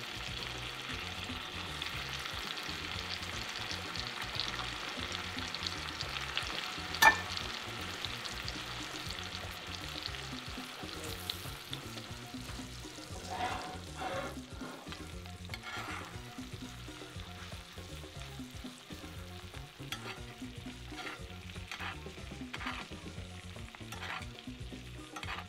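Scallops searing in a hot pan for a seafood jollof-risotto make a soft, steady frying hiss, with occasional louder spatters and light pops toward the end.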